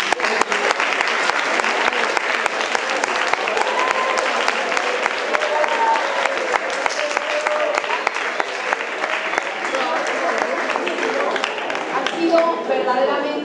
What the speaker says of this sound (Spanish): Así que un gran aplauso se lo va a dar uno de vuestros alumnos.